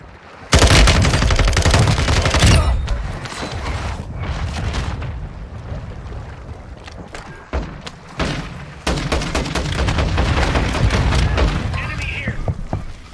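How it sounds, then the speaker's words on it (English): Heavy gunfire and booming mortar blasts in a multiplayer shooter game, with dense automatic bursts and loud impacts nearly continuous for several seconds, a brief lull, then more rapid firing, with a voice calling out over the battle. "Hostile mortar strike near your position."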